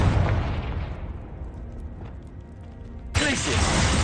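Confringo blasting spell cast in Hogwarts Legacy, a loud roaring burst of fiery explosion that rumbles on, then a sharp second crack of impact near the end.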